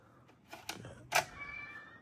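A pet cat named Bella gives two short meows indoors, the second brighter and louder, close to the microphone with quiet room noise around them.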